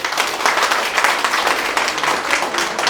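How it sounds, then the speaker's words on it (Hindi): A large crowd at an RCM business gathering applauds vigorously and steadily, a dense wash of clapping that holds at full strength without a break. "अपने लिए एक बार जोरदार ताली बजा दीजिए"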